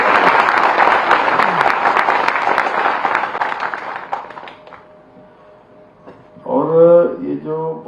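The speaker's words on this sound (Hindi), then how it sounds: "एक बार इन सब बच्चों के लिए ताली बजा दीजिए।" A school education-department event audience in Dehradun gives the children a sustained round of clapping that fades over about five seconds, followed by a voice speaking over a microphone.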